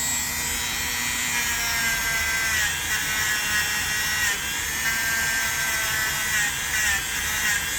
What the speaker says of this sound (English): There's another spot you can use the wire wheel on.